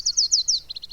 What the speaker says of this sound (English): Vasona Lake County Park is a great place to hear warblers and other songbirds